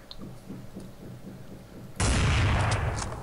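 Gunfire through a wall in Counter-Strike 1.6: a faint rapid series of small shots gives way to a sudden loud, dense burst of close fire that holds to the end.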